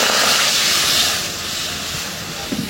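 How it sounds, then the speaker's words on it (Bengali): Water poured into a hot wok used for cooking fish, giving a loud, broad steam hiss that starts strong and gradually eases, with a few small clatters at the very end. "এই কড়াইতে একটু পানি দিয়ে দিলাম।"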